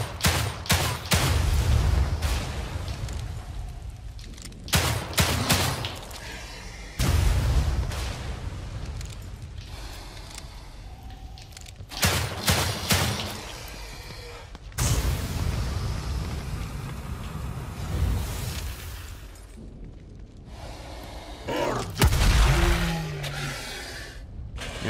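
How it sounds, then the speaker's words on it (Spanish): Repeated gunfire and heavy explosions in the survival horror game The Evil Within 2, loud bursts of shots and booms recurring every few seconds throughout. "No sé cuántos disparos hay que pegarle a esto."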